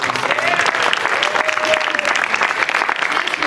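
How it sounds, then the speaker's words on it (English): A conference session audience at a music event applauds a crew member, sustained clapping filling the room, with a brief sustained tone sounding faintly beneath it. "Can we applaud Coy working all day long?"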